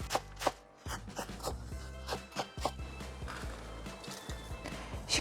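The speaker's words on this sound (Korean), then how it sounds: "속꼬리 수육에 올려 먹을 부추를 썰어 보겠습니다 잘게 썰어주세요" A kitchen knife finely chopping garlic chives for braised oxtail suju-yuk, tapping in quick, steady strokes on a cutting board with one short pause early on, close and crisp with no talk.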